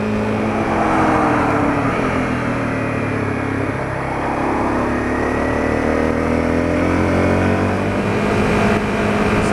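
Honda CRF250L motorcycle engine, with adjusted EJK fuel settings and a modified air box, accelerates hard at high speed, a loud, continuous rising whine mixed with heavy wind rush and no break in the sound.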